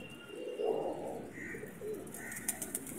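A female pigeon cooing close by in soft, low murmured phrases, with a few faint chirps from other birds in the background.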